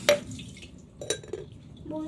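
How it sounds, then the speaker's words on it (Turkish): Dishes are put away in a home kitchen, with two sharp clinks of crockery about a second apart and softer handling noises between them, close and fairly quiet, and a voice murmurs briefly at the end. "Ben de bulaşıkları yerleştiriyorum"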